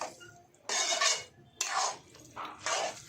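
A metal spoon scraping and clinking in a pan while fried okra (bhindi) is stirred into masala gravy, coming in several close, loud bursts of scraping with short pauses between.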